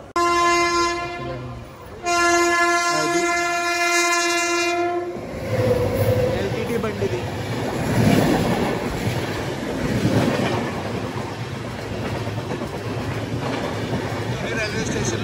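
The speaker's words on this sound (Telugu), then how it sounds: "Mumbai LTT Visakhapatnam LTT express అంటారు కదా, ఆ ట్రైన్ అయితే ఇప్పుడు ఓవర్టేక్ చేస్తుంది మన ట్రైన్ని." An express train from Mumbai LTT to Visakhapatnam sounds a loud, sustained two-part horn while overtaking a stopped MEMU at a station, then its wagons rumble past with continuous rolling noise and faint clatter.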